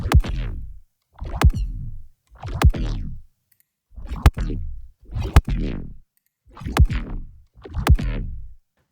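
Neuro bass impacts processed with an OB disperser on the transients, seven sharp clicking hits each followed by a short descending growl, spaced about a second apart, loud and alone.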